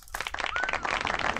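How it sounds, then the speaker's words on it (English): A short burst of canned applause from a sound-effect button, bright crowd clapping that starts abruptly and runs for about a second during a sports card box break. "Do you have a round of applause button over there?"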